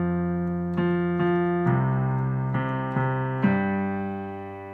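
Piano chords from twenty one pilots' "Migraine" move slowly in soft, sustained changes, with occasional higher top notes sprinkled over each chord and a gentle ringing decay at the end.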